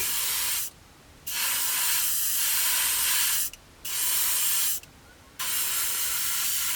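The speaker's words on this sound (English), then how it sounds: "So we're just going to spray these Tamiya gloss black." Three bursts of aerosol spray hissing close by as Tamiya gloss black paint is sprayed onto 1/48 scale model P-40N propeller blades, each lasting one to two seconds, separated by short pauses.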